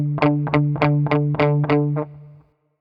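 Seven even palm-muted electric guitar eighth notes from the riff of a song chug in a steady rhythm, tight and distorted, then the last one cuts off into silence.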